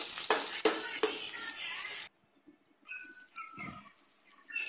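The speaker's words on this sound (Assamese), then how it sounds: "মই মাছ ফ্ৰাই কৰা তেলতে পিঁয়াজ কেইটা আৰু তেজপাত কেইখিলা দি দিম। এইখিনি অলপ ভাজি ল'ম।" Onions and bay leaves, then boiled potatoes, sizzle in leftover fish-frying oil with stirring clatter, a short silent gap midway, then quieter frying and scraping resuming.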